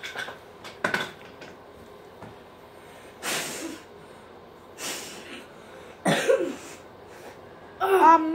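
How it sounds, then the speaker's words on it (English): Several sharp, breathy bursts like sneezes or snorts come at irregular intervals, separated by quiet stretches. "that isn't a cough, that's a sneeze"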